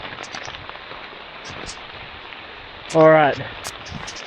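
Hail and rain pelt down steadily in the Nepalese Himalayas during a trekking blizzard, a dense continuous patter, with someone briefly speaking partway through.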